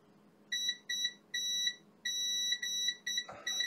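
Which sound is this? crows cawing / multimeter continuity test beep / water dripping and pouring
multimeter continuity test beep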